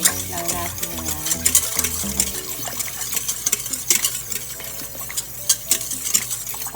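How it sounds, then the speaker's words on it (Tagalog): A spoon stirs a sachet of black gulaman powder into five cups of water in a pot for coffee jelly, making rhythmic scraping and clinking, close and steady, with no talk. "1 sachet gulaman color black. Then, mix lang natin yan."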